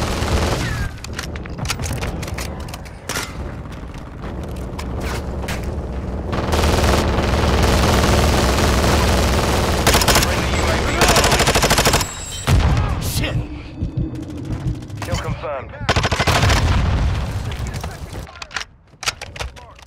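Heavy gunfire in a Call of Duty team deathmatch: dense machine-gun bursts and single shots, loud and close, with a sustained barrage in the middle, occasional booms and breaks, and voices mixed underneath.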